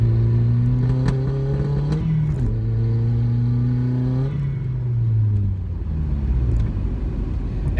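First-generation Audi TT Quattro pulling hard through a third-gear roll-on, its engine note climbing steadily, easing briefly, then rising again before dropping to a rumble; loud and close, with no talk.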